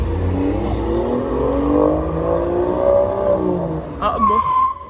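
Aston Martin Vanquish V12 convertible supercar accelerating on a street in Cannes or Monaco, a loud sustained engine roar rising in pitch with a sharp rev near the end.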